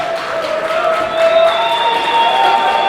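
Wrestling crowd at a WinterMania 3 tag-team match cheering and applauding, a broad steady roar with scattered whistles and shouts, moderately loud and sustained.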